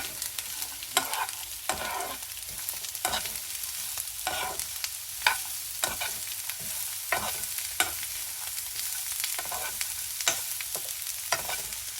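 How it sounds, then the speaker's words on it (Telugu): Carrot and beetroot stirred in a frying pan: a soft continuous sizzle broken by regular sharp scrapes and clicks of a spatula against the pan, close and clear, with no talking. "క్యారెట్, బీట్రూట్ వేసుకుని కలిపేసుకోవాలి."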